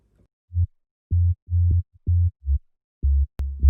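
Deep, rumbling sub-bass synth notes played in short, uneven pulses, very low and smooth with nothing else around them.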